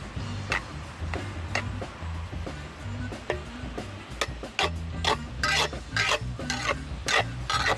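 Cooked meat for Cajun boudin is stirred and broken up in a pot, with a rhythmic series of scraping, clacking strokes over a faint sizzle, close and fairly quiet.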